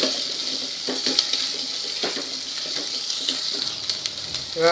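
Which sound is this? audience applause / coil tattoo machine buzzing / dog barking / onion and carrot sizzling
onion and carrot sizzling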